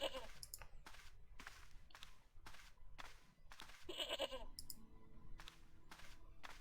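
A goat bleats in the point-and-click adventure game Broken Sword: a string of quiet, short, wavering calls repeating in an uneven rhythm, with no talking.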